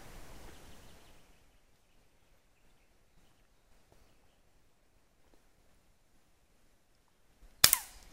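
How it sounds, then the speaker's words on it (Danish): A Feinwerkbau 300 S air rifle fires once at a shot glass target 17 m away, a single sharp, close crack after a long stretch of near silence. "Bare skyd igen."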